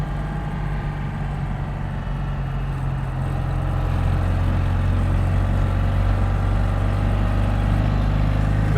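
A freshly rebuilt Citroën 2CV engine drones steadily in third gear while climbing a steep hill, a low continuous hum that grows slightly louder partway through.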